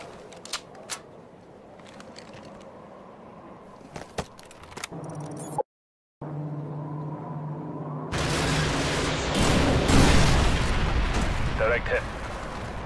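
An AGM missile strike in Call of Duty Modern Warfare 2's Contingency mission brings a heavy, sustained roar and rumble after a brief silence. Before it come sparse clicks and scattered game voices.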